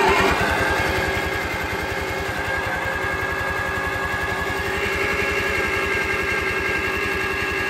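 A 1945 Allis-Chalmers WD tractor engine runs after a pull of the starter, giving a steady, rapid thudding beat with a mechanical rattle on top, close and fairly loud with no speech.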